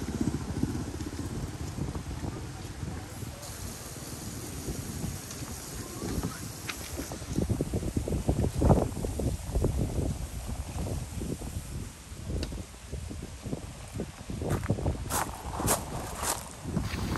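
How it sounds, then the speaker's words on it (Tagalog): Strong storm wind buffets and roars against the microphone in gusts during a drive in a Suzuki S-Presso, with low rumbling and bursts of noise throughout. "Sobrang lakas ng hangin."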